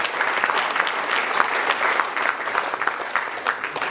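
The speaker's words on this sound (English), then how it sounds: "So a big applause for KM and all." Sustained, dense clapping from an audience at the Manu Utsav commemorative event, steady and fairly loud throughout with no one speaking over it.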